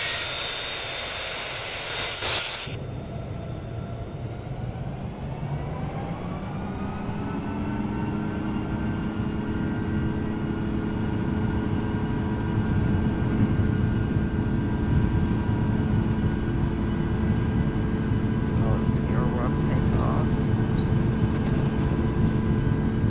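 A simulated airliner takes off in the Infinite Flight game, its engine roar rising steadily in pitch and power as it spools up, then holding a loud, sustained drone, with no talking.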